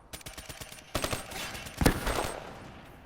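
XR2 rifle fire in Call of Duty Black Ops 3 gameplay: rapid automatic bursts, a brief pause, then a louder sustained burst with an explosive crack, up close, without talk.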